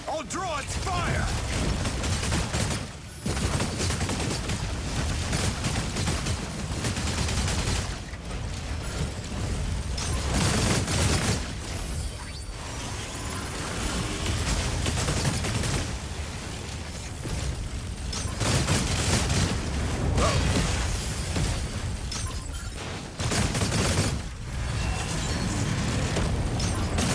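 Mech combat in a video game, with dense, continuous gunfire and rumbling explosions and mechanical clatter, broken by a few brief lulls and running loud throughout.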